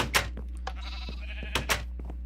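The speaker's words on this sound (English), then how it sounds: "a wee baby sheep" Two short baby sheep bleats in Minecraft, one at the start and another near the end, over a low steady hum and faint game tones.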